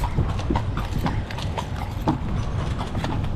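A horse pulling a cart clip-clops along a street in Bukittinggi, its hooves striking in a steady, brisk rhythm close by over a dense background of street noise, with no talking.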